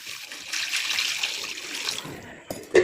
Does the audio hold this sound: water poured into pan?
yes